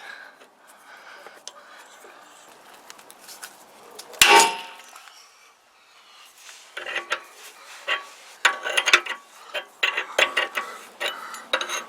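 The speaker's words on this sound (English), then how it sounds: "I'm gonna use this fitment arm puller and see if I can't get this one off without damaging it." Pitman arm puller working on a Toyota 4Runner ball joint, with a sharp metallic clang near the start followed by scattered close ticks, knocks and rattling tool clinks.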